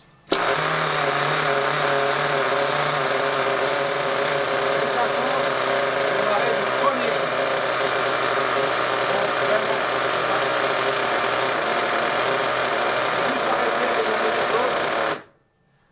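A nitro model engine starts and runs in a workshop, a loud, steady high-pitched buzzing whine that holds for about fifteen seconds before cutting off abruptly.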